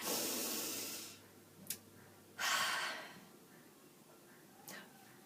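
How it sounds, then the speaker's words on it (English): A person draws in a long, deep breath and then lets it out slowly, a soft close hiss in a quiet room, followed by a faint shorter breath. "Take a big breath."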